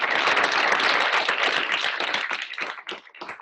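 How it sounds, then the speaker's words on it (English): A lecture audience gives Ellie a round of applause, close and full at first, then thinning into scattered individual claps as it dies away. "Another round of applause for Ellie."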